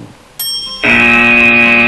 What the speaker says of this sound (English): fastest on the buzzer